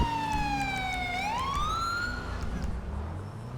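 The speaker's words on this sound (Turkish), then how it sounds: "Şunun sirenlerini susturalım artık." A police car siren in GTA 5 with the LSPDFR mod, close and loud: one wailing tone sweeps down, then rises again and cuts off, leaving engine and road noise.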